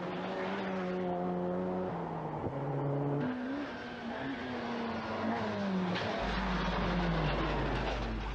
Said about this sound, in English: Making the World International Rally debut of the new Ford Sierra RS Cosworth, Ken McKinstry.